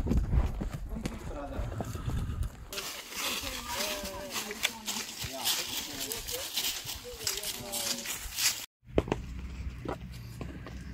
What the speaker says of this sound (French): c'est des chevaux qui savent où ils mettent les pieds